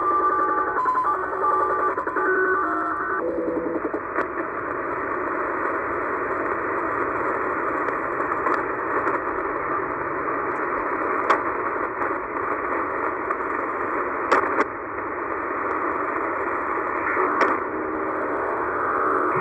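Digital data signal from a STANAG 8402 mode on a shortwave receiver tuned between 8000 and 9000 kHz, a steady static-like hiss with a faint warbling pattern and a few brief ticks, loud and continuous throughout with no talk.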